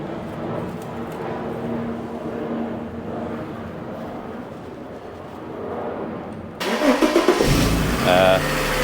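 A Mercedes W140 S-Class engine cranks and fires after an oil change, catching abruptly and settling into a close, steady idle with some revving, following a stretch of quiet background and talk.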